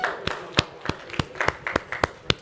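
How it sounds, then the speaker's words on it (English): Sparse clapping from a small group at a talk on decriminalizing mental illness, a dozen or so distinct separate claps in loose rhythm, close and moderately loud. "Give yourselves a round of applause for doing that."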